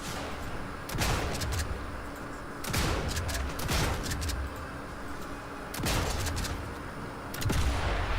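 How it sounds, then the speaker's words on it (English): Trench gun blasts in Sniper Elite 5, a handful of sharp, booming shotgun shots spaced a second or two apart over a low background of ambient game noise. "I'm certainly liking this trench gun."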